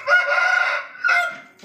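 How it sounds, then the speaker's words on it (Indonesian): A Pakhoy rooster in a simple coop lets out a loud, close crow followed by a short second call, with a faint cluck at the end. "Ini ayam jenis pakwai ya."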